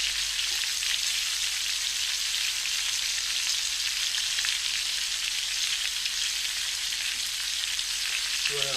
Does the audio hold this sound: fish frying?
yes